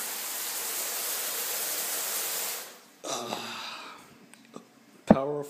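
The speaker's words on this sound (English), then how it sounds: "Powerful shower." A powerful hotel-suite shower runs as a steady, loud broadband hiss for about two and a half seconds, then cuts off, leaving faint drips and small bathroom clatters with a sharp knock near the end.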